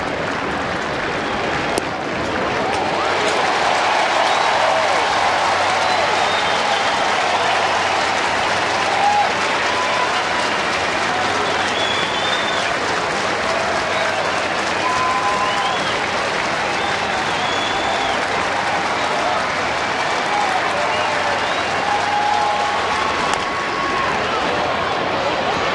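Sustained applause and cheering from a crowd of over 29,000 at a baseball stadium in Cincinnati, a dense continuous roar with scattered whistles and shouts.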